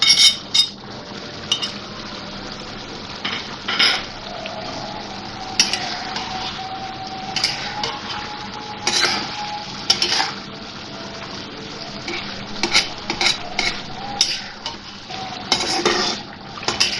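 Spices roast in a pot while tomatoes are mashed for a chicken curry, giving repeated close clanks and scrapes of a utensil against metal over a low frying sizzle across the whole stretch.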